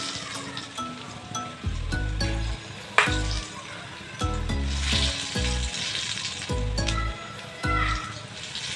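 Bhaji fritters fry in hot oil with a steady crackling sizzle, broken by repeated low thumps and clinks as batter drops into the pan, close and continuous throughout.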